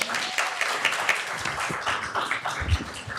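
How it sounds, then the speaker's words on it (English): Applause from the audience at a Sacramento City Unified School District board meeting, a dense round of clapping lasting a few seconds, fairly close, with a few low thumps and murmurs mixed in. "Another round of applause for Gracie."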